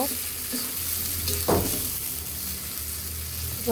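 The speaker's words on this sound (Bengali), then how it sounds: "ধনিয়া পাতার কুচিটা দিয়ে আমি আবার একটু নেড়ে নিব" Eggplant and prawn curry with chopped coriander leaves being stirred in a pan, a loud continuous sizzle and bubbling with scraping strokes and one sharper clatter partway through, heard up close with no voices.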